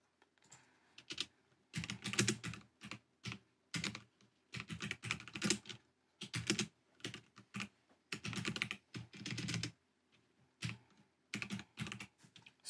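Rapid computer keyboard typing while code is written in a programming tutorial, coming in irregular bursts of close, clicky keystrokes separated by short pauses, with no voices.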